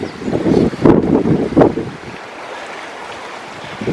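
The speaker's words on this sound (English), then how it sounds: "A bit windy now." Wind gusts buffet the microphone outdoors in a springtime field, loud rumbling bursts for the first two seconds, then easing to a steadier, quieter blow.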